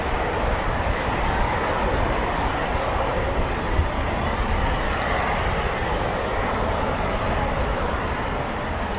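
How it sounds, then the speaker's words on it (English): A Eurofighter Typhoon FGR4 jet taxis out for departure at RAF Coningsby, a steady broad engine roar and hiss held at an even level throughout, moderately distant and continuous with no talk. "And another Typhoon taxiing out for departure."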